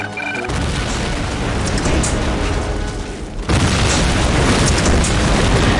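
A booming explosion in Medal of Honor: Allied Assault erupts after a short lull, followed by dense roaring blast noise, a second surge hitting midway and sustaining loudly to the end.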